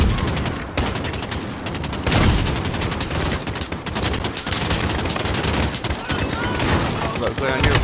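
Dense, continuous gunfire in a Call of Duty: Modern Warfare campaign battle, rapid automatic bursts and heavy shots layered into a loud, unbroken barrage with a voice shouting over it.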